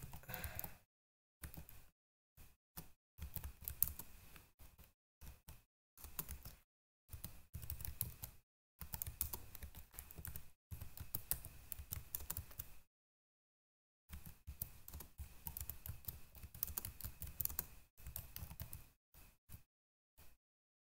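Computer keyboard typing in quick bursts of soft clicking keys, close but quiet, with short pauses and one longer silence between runs of keystrokes.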